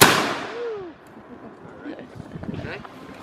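A smooth-bore flintlock musket fires once at a Yorktown Victory Center demonstration, a loud sharp blast at the start that decays into a fading outdoor rumble, followed by faint crowd noise and murmuring voices.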